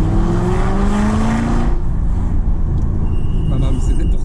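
An Aston Martin V8 Vantage engine revs close by, its loud tone rising in pitch before cutting off abruptly partway through, followed by a lower idle-like rumble with faint higher tones.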